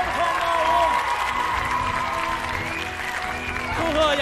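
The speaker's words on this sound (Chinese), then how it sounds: "我们把掌声送给赵江峰，送给三大王。" Audience applause at a Wu Lin Feng kickboxing event after a fight result, a broad wash of clapping and crowd noise under an announcer's voice on the arena loudspeakers.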